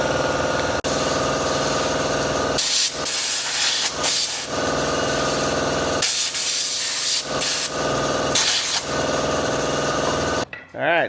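Starting fluid sprays from an aerosol can on a little red truck in repeated hissing bursts of one to two seconds, with an engine-like drone running underneath and a brief rattling sound at the end.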